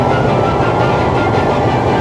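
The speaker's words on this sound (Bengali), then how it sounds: "সেখানে এখন নব্বই কিলোমিটার বেগে ট্রেন ছুটছে" Sundarban Express train running at about ninety kilometres per hour on the Dhaka to Khulna route, a steady, loud, continuous rumble and rush of wheels and carriages throughout, with no voices.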